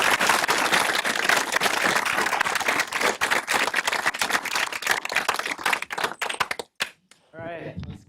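An audience applauds after a talk at a data analytics meetup, with sustained loud clapping from many hands that thins into scattered claps and then stops. A voice follows briefly at the end.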